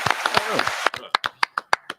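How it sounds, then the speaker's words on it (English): A small audience on a basketball talk show claps in short, sharp bursts. The first half is covered by talking and a busy mix. After that the claps stand alone as separate, evenly spaced loud hits. "Let's clap it up."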